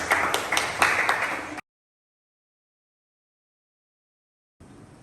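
Classmates clap for team A during a civics quiz at SMAN 1 Batam, a short burst of close, distinct handclaps that cuts off abruptly into silence, with faint room sound returning at the end.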